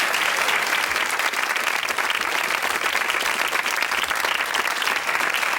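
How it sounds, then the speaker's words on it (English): A studio audience at the 1992 Blockbusters quiz show gives a dense, steady round of applause that stays loud and even from start to finish, with no voices over it. "A big round of applause."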